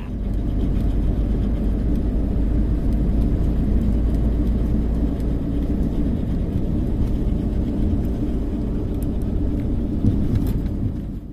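Converted camper van driving on the road, a constant low engine and tyre drone filling the whole stretch, steady and close, with no talking.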